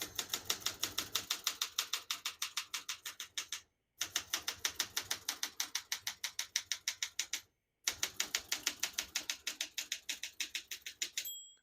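Rapid, steady clacking of a 1966 Olympia SM9 manual portable typewriter's keys, close and alone, in three bursts separated by brief pauses, with a small margin bell ding near the end.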